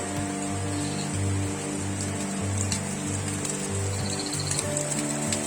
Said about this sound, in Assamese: এইফালে চাওক কি সুন্দৰকৈ বৈ আছে জুৰিবা